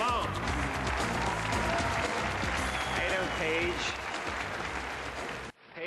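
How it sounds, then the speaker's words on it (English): An audience applauds steadily at a magic show, a dense wash of clapping under a voice greeting a volunteer before the sound cuts off abruptly near the end. "Big round of applause for Paige."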